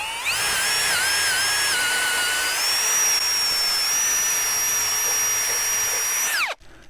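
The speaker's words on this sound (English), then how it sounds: "what we're gonna do now is put the bigger hole straight through" A power drill bores a large hole straight through a wooden trellis post for a muscadine grape trellis, running as a steady, loud, high whine for about six seconds before stopping abruptly, with no talking.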